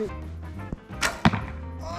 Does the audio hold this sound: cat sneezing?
no